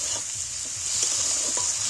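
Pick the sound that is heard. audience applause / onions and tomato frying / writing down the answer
onions and tomato frying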